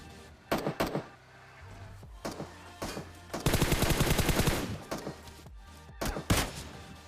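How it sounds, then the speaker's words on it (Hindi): Gunfire in the battle royale game PUBG: several sharp single shots, then a sustained rapid automatic burst lasting over a second, followed by more scattered loud shots, close and punchy, with no talk. "मुझे राइट से एक और बंदे का फायरिंग का साउंड आया"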